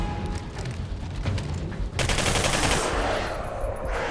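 Gunfire from the video game Singularity: bursts of rapid automatic shots, dense and loud throughout, strongest in a sustained rattling volley over the second half.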